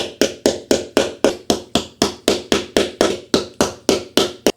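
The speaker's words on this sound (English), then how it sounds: "insert them gently into those holes there, and then we'll have to hammer them down" Hammer blows drive wooden dowels into pre-drilled holes in a particleboard panel of a shoe storage cabinet under assembly; about fifteen sharp, evenly paced knocks arrive close and loud, with no talking.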